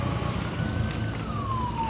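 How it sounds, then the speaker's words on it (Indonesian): Ambulance siren at night outside a roadside ginger-drink stall, a single rising and falling wail, fairly close and moderately loud over steady traffic rumble. "ada ini ambulans kedua ini. Ini mobil jenazah"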